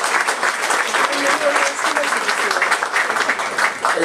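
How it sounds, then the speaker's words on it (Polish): Applause from an audience at a cornerstone-laying ceremony in Gdańsk, dense and sustained clapping that fills the whole stretch at a steady level. "Gorące brawa, szanowni państwo."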